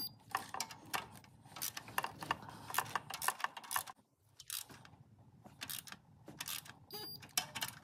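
Bolts on the saddle brackets of a 2022 6.7 Powerstroke diesel engine are tightened with a ratchet and torque wrench, giving repeated clicking and ratcheting bursts close by, broken by short pauses.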